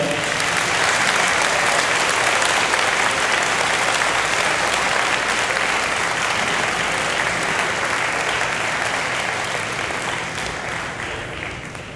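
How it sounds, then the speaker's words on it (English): A large audience applauds three competing teams at a physics tournament final: dense, sustained clapping at close range, loud and steady throughout, fading slightly at the end. "I think I would ask you to again applaud the wonderful efforts of these three teams today."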